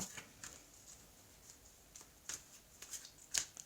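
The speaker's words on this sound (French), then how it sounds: "Je vais étaler les cartes." Oracle cards being handled and spread across a surface, heard as faint, close, crisp taps and sliding clicks that come irregularly and grow a little sharper toward the end, with no talking.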